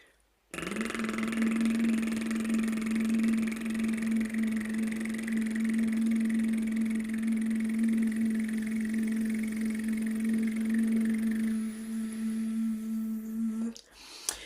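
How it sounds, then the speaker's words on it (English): A sustained buzzing lip trill, a steady voiced raspberry held for over ten seconds, close and even before stopping abruptly. "do that raspberry as often as you can"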